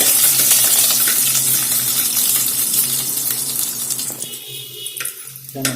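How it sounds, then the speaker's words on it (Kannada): Onions fry in a pan after the mustard seeds have popped, giving a dense close sizzle that starts loud and gradually settles, then breaks into sparse crackles near the end. "ಈರುಳ್ಳಿನ ಹಾಕೊಳ್ಳೋಣ ಈಗ ಈರುಳ್ಳಿ ಸ್ವಲ್ಪ ಬಾಡಿಸ್ಕೊಳ್ಬೇಕು"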